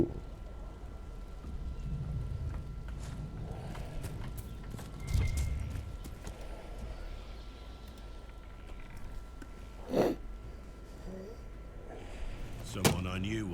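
Horse hooves clopping in the video game Dragon Age: Inquisition, a soft steady clip-clop running under background game ambience, with a few louder thuds standing out partway through.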